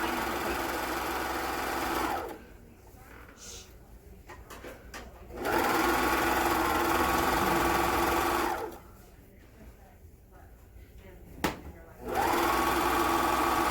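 A sewing machine runs fast while stitching a pillowcase, steady high-speed whirring in three sustained bursts separated by quieter pauses with faint handling.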